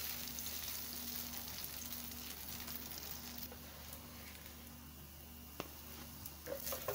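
Potatoes frying in hot oil, making a steady, close sizzle that runs throughout, with a faint hum underneath and a single brief click near the end.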